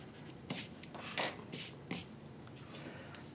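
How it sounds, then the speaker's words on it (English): Pencil drawing being erased on paper, heard as several short, soft rubbing strokes close by, spaced about half a second apart, with no talking. "So I'll erase that."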